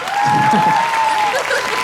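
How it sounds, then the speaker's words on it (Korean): Applause from an outdoor audience at the closing ceremony of a Daehangno street festival, moderate clapping under a sustained tone and some laughter and voices. "박수 부탁드리겠습니다"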